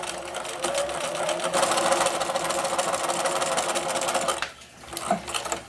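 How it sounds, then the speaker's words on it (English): A sewing machine stitching a side seam with a 1/4 inch allowance on folded fabric, running as a steady, close, rapid mechanical whir for several seconds, then slowing and stopping. "using 1/4 inch seam allowance, stitch down the one side"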